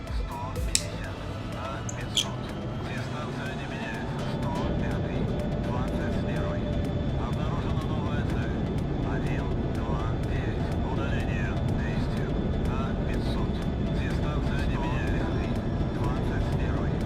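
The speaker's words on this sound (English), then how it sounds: "Oh boy, night landing in the F5." An F-5 jet's engine drones steadily during a night landing in the DCS flight simulator, with a swell in level partway through, under a person talking.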